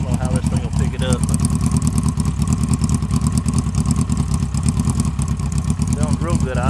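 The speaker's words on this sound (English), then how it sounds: "Sounds real good idling. Deep sound." A Kawasaki Concours ZG1000 motorcycle fitted with Delkevic 9-inch stainless mufflers idles up close with a steady, deep, loping burble, loud and constant throughout, while someone talks over it.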